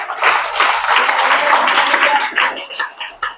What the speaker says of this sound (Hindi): ताली बजाए सब लोग